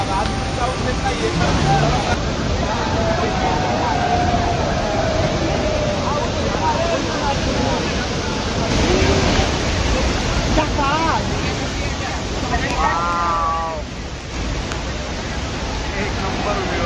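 Devkund waterfall running strongly after heavy rain, a steady, loud broadband roar of rushing water that fills the whole stretch, with voices faintly audible over it.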